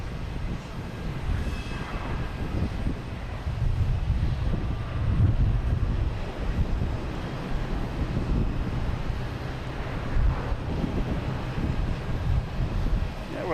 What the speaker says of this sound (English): We have an A321 American heading to